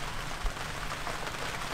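Rain falling onto a small, makeshift rain catchment setup aboard a sailboat on the ICW, a steady close hiss of drops pattering on the collecting surface with no pauses, alone without talk.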